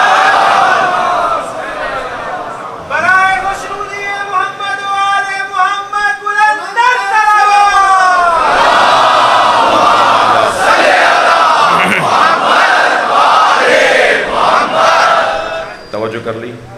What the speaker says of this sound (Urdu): جب آپ بلند آواز سے صلوات پڑھتے ہیں نا تو منافقت بھاگتی ہے